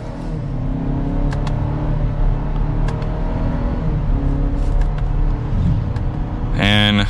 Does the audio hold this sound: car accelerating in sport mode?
yes